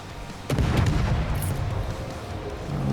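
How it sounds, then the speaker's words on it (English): Warship guns fire in World of Warships, a heavy booming salvo that rolls on as a sustained low rumble, with a second swell near the end. "I smoke up and take the Harlem under fire"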